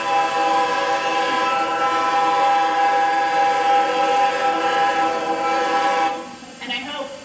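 A train rumbles past with a long, sustained horn blast dominating the sound, loud and close, tapering off near the end.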